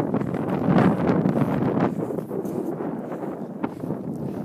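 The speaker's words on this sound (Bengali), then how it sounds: "খুব ঠান্ডা হাওয়া" Cold wind blows beside a small lake, making steady gusty buffeting on the microphone that is strongest early and eases slightly later, with no talking.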